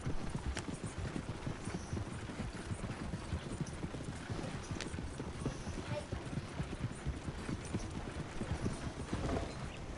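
Steady clip-clopping of horse hooves from Diamond, a horse in the video game Red Dead Redemption 2, plodding continuously at a walking rhythm with a faint whinny, while a person talks over the footsteps.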